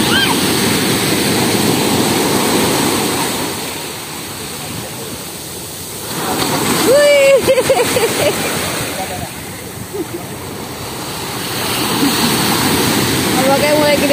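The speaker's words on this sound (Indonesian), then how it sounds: "Ombaknya mulai gede banget." Large ocean waves crash on Padang beach in West Sumatra, a loud rushing surf that swells and recedes in broad surges, with voices talking over the water.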